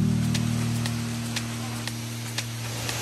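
Tropical rain falls in North Bali as a steady, even hiss with a low continuous hum underneath and a few sharp drop ticks, with no voices.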